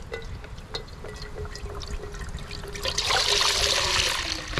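Reduced-sodium chicken broth pours from a 32-ounce carton into a pot set over a campfire in the snow, a steady close trickle that grows into a fuller, louder splashing stream toward the end.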